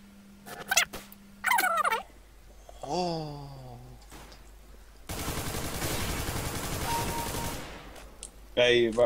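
Gunfire in CS:GO comes as rapid bursts of shots, with a dense stretch of sustained firing in the middle, between short loud electronic sounds and a brief voice.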